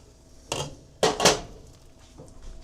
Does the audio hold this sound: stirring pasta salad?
yes